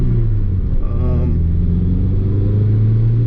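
1987 Mitsubishi Lancer 1800 EX GSR intercooled turbo accelerating in third gear, heard from inside the cabin: a loud, steady low engine drone that holds through the whole stretch, with a brief rise in the middle.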